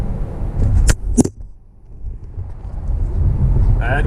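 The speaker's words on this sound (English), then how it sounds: "That wasn't the car, it didn't wreck. Camera fell." A camera falling over inside a moving Tesla Model 3, two sharp close knocks and a clatter over steady road rumble, followed by a brief voice.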